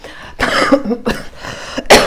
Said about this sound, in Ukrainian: тепер ще кашель